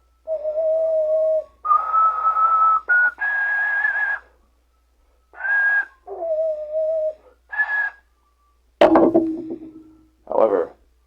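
Ocarina playing a series of sustained high whistling notes, each held briefly with pauses between, climbing in pitch, then a couple of sharp knocks at the end.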